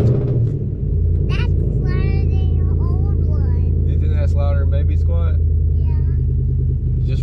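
Loud, heavily rumbling engine of a modified Toyota Tundra pickup, a steady deep drone filling the whole clip close up while people talk over it.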